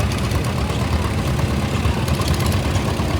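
A 1957 Case 600 propane tractor engine running in a tractor parade, a steady, dense low rumble that holds level and close for a few seconds without speech.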